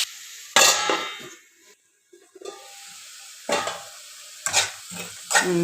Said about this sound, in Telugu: ఒకసారి బాగా కలిపి మూత పెట్టుకుందాం